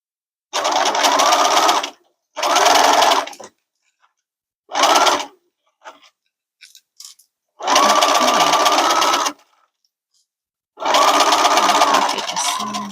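A sewing machine stitching a bag lining in several bursts, each a loud, close, steady mechanical whir lasting one to two seconds, separated by pauses with faint handling noises.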